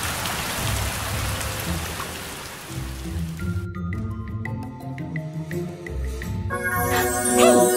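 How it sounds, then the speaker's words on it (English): Steady rain falls in the fantasy game Island Princess Royal Magic Quest, a dense continuous patter mixed with soft chimes and melodic game music rising over it. "Let's call on the rain."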